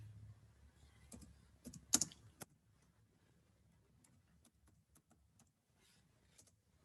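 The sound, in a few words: typing a name into the chat on a computer keyboard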